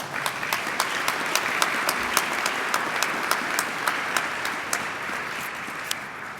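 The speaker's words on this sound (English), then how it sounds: "So a round of applause for all of them." Moderate audience applause at a state police recruit class graduation ceremony, many hands clapping steadily with a few sharp, distinct claps standing out nearby, no talking over it.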